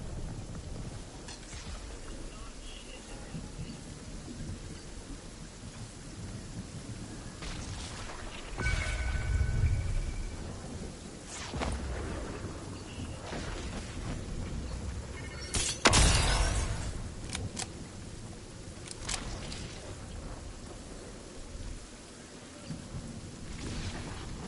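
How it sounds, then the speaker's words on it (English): A thunderstorm rages in the battle royale game Apex Legends, with steady loud rain hiss and several rumbling thunder cracks, one especially sharp and near, layered under game sounds. "We are going to die in this storm."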